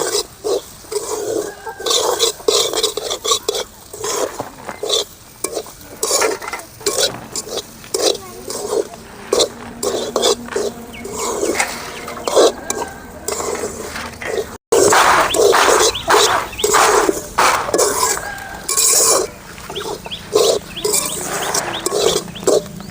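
Peanuts stirred in a hot pan while roasting for coconut energy balls, with a steady rough scraping and rattling that runs nearly nonstop. Faint voices come and go underneath.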